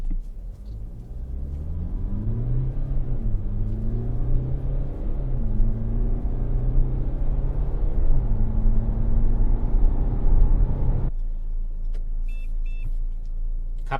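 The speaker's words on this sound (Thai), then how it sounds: "ตอนนี้เราจะมาลองอัตราเร่ง 0 ถึง 100 นะครับ ในโหมดคอมฟอร์ตนะครับของ GLC 220D นะครับ" A Mercedes-Benz GLC 220d Coupe 4Matic diesel accelerating hard from rest in comfort mode on a Grand Prix circuit, with a steady engine drone that climbs and drops through several gear changes before cutting to a quieter cabin hum.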